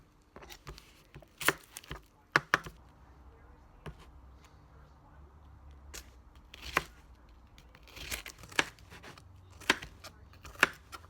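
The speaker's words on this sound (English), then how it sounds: "about to chop this onion" An onion chopped with a knife on a cutting board in a home kitchen, a run of crisp, uneven knife thuds, some in quick bursts and some spaced apart, close to the microphone in an otherwise quiet room.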